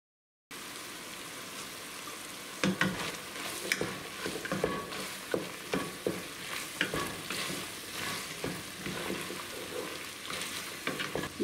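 Chopped onion and carrot frying in a pan give a soft, steady sizzle, with intermittent clicks and scrapes from stirring, fairly quiet and close, no voices.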